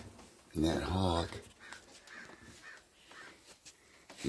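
Ravens cawing in alarm at a hawk perched in a nearby tree, a loud burst of harsh calls near the start followed by fainter scattered caws outdoors, with a person talking quietly over them.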